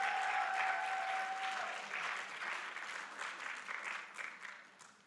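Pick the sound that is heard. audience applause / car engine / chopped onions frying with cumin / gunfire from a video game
audience applause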